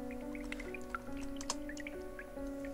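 Running water trickles and drips in the video game The Witch's House, soft wet drops and small splashes landing irregularly over a steady hum of game music.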